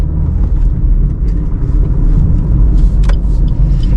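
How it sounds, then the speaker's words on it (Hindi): Car pulling forward during a driving lesson, its engine and road rumble steady and close throughout, with a brief higher whine near the end and no talking. "चलो अब गाड़ियाँ दूर हैं तो हम थोड़ा सा गाड़ी को खींचेंगे"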